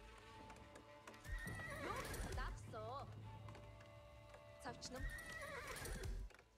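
Cavalry horses in Age of Empires 4, several loud whinnies and neighs repeating in bursts over a soft clip-clop of hooves, close and clear, with a game soundtrack faintly underneath.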